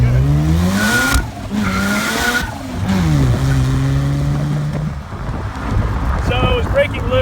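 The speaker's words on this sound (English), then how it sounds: "it was breaking loose at the power band all the way through first, second, and into third gear" A Super Seven car accelerating hard, engine note climbing through gear changes with brief dips between them and tires squealing as they break loose, loud and close with wind rush.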